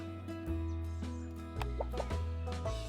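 Cartoonish chicken clucks from the farming mobile game Big Farm: Mobile Harvest, several short clucks spaced irregularly over a steady droning game music bed, clear and close, no speech.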